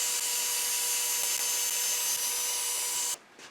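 A Dremel fitted with a Woodturner's Wonders 1-inch burr runs against a wooden bowl. It makes a steady, close, high-pitched whining grind that holds level for about three seconds, then cuts off abruptly.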